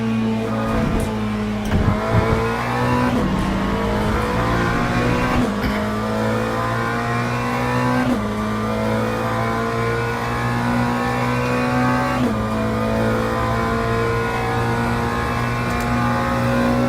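A race car engine in Le Mans Ultimate, heard from the driver's seat, holds a loud, steady tone that repeatedly climbs through the gears, with sharp shift breaks every few seconds.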